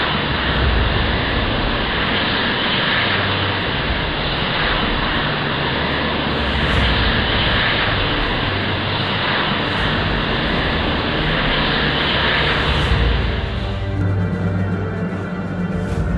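Jet fighter taking off in the Falcon 4 flight simulator game, a loud continuous engine roar and rushing noise holding steady throughout, with a faint radio-like tone near the end.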